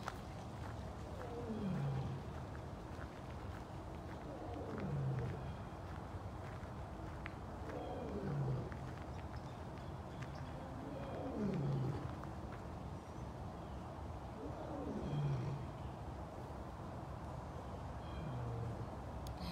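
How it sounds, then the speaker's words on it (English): A big cat roars in a series of deep, drawn-out moaning calls, one every few seconds, over steady outdoor background noise. "It's Cameron roaring."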